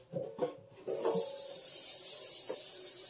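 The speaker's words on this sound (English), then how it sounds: "I'm going to rinse these off with hot soapy water." Tap water runs steadily as fridge shelves are rinsed with hot soapy water, a constant hiss after a few brief knocks and handling sounds at the start.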